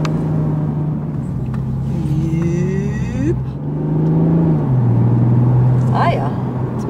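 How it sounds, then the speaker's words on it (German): A Toyota Supra sports car is driven and shifts gears, its engine note rising and dropping with each change under a steady road rumble, while people talk inside the cabin. "jetzt merkt man auch, wie der schaltet"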